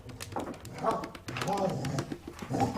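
A dog yips and whimpers in short bursts indoors, partly overlapped by people talking nearby.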